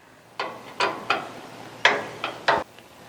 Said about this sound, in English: So there's 1, 2, 3, 4 screws we need to undo.